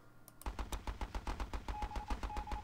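A gun turret in the video game Battle Islands: Commanders fires a rapid, steady burst of punchy automatic shots after a brief quiet start, each report sharp and bassy, with no voices.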